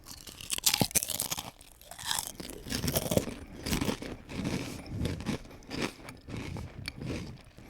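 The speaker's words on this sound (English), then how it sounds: "Let's see how the crunch is. Oh, these are also wavy. Ridged, mega ridged." Wavy, mega-ridged potato chips crunched and chewed up close, a steady run of loud crisp bites and grinding mastication with no talking.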